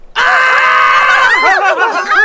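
A person screams loudly and continuously, a strained high-pitched cry that breaks into wavering, laugh-like yelps toward the end, close and alone.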